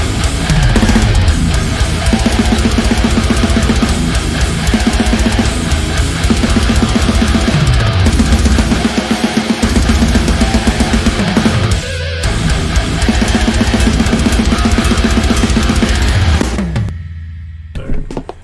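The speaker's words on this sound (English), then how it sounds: "the next section is this kind of like fast, like blasty part, which sounds like this" Fast, loud blast-beat metal riff section from a song, with dense pounding drums and distorted guitars running continuously before cutting off into a short quiet tail, with no talking.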